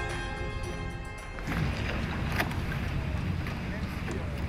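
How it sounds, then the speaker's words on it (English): A racing trimaran sails toward the Route du Rhum starting line off Saint-Malo, with steady broadband wind and water rush that grows louder and fuller partway through, a few brief knocks over the continuous wash. "Erik sails to the starting line for what promises to be the race of his life."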